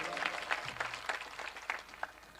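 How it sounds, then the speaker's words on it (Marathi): Audience claps at a kirtan, a moderate ripple of hand claps rising and falling across a short burst, moderately near, with no talking over it. "त्यांच्याकरता सुद्धा जोरदार टाळ्या वाजवा"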